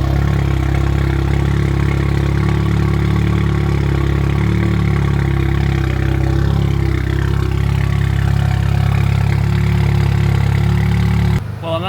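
Volkswagen GTI with its resonator refitted, engine idling at a steady low drone with light revs inside, a constant close rumble throughout that cuts off sharply at the end.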